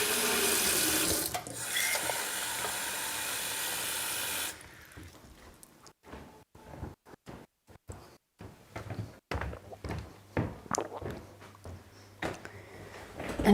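Water runs steadily from a household tap into a glass for a few seconds, then stops, followed by scattered clinks, knocks and soft handling noises nearby.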